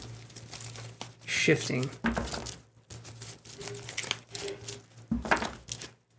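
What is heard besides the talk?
shuffling tarot cards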